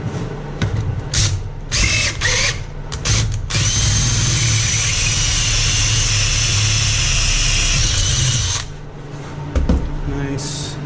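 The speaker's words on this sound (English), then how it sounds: "There's the drill." A power drill turns a tap to cut threads in oiled metal for a Simplicity tractor snow blower modification, whirring steadily for about five seconds after several short stop-start bursts, then dropping to quieter handling noises.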